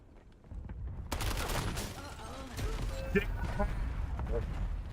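Gunfire crackles in a Call of Duty Warzone match, bursts of shots and impacts spread over a steady game din, with radio-style voice lines and a player's voice mixed in.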